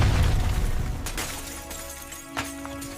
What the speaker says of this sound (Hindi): एक भयंकर विस्फोट होता है।